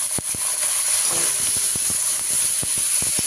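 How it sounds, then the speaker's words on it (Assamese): Boiled corn kernels go into a pan of frying onions, setting off a steady close sizzle and hiss broken by light stirring clicks against the pan. "এতিয়া মোৰ পিঁয়াজখিনি সিজিছে। ইয়াতে মই বইল কৰি থোৱা মাকৈখিনি দি দিছোঁ।"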